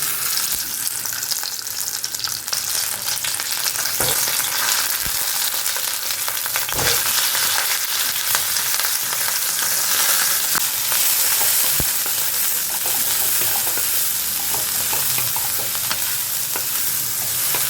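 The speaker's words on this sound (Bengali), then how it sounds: "আগে একটু ওই মাথাটা ভেজে নিই" A fish head frying in hot oil in a pan, a loud dense crackling sizzle running nonstop, close up, with a few sharp knocks and scrapes of a utensil against the pan.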